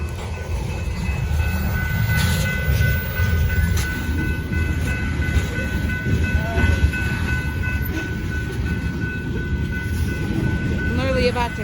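An eastbound oil train rolls past in Whitefish, Montana, a loud continuous rumble of rail clatter and wheel noise with squealing tones, close by, while a person talks over it.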